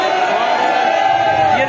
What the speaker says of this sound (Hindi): भीड़ लगी हुई है यहाँ पे